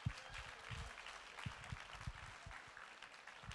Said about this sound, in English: a round of applause for Lauren Braun.